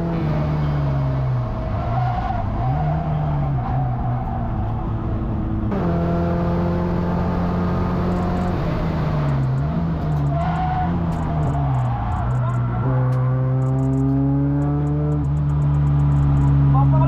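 A Peugeot 208 Racing Cup car lapping a track, its engine loud and close as it repeatedly climbs through the revs, drops on downshifts and reaccelerates out of corners, with some tire noise.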